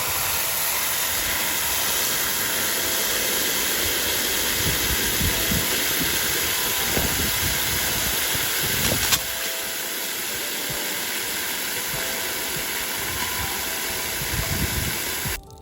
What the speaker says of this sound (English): Now we're gonna fill it with water.